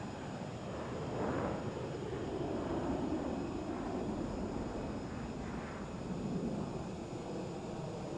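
An aircraft flies by in a flight simulator game, a faint steady engine drone and rushing roar that swells gently and fades.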